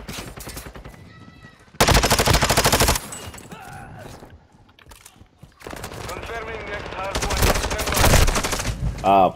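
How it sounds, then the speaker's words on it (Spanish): Shotgun blasts in Call of Duty: Modern Warfare II, a few loud sharp bursts separated by quieter stretches of game noise, with someone talking between shots. "Esta escopeta, vamos a ver qué tal."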